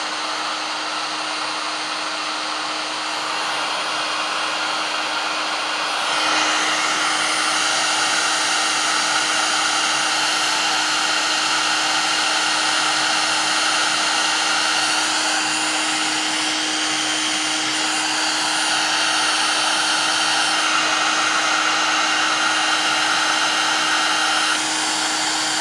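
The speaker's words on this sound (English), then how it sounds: "Warm up your heat gun for 10 seconds and then use it." A heat gun blows hot air onto a solder connector on a cable, giving a loud, steady whooshing roar with a constant whine that swells slightly partway through and carries on alone.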